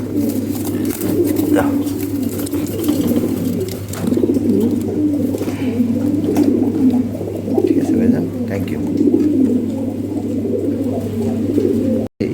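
Top-quality Lahori pigeons coo in a steady, continuous murmur, with a constant low hum underneath and a short exchange of speech near the end.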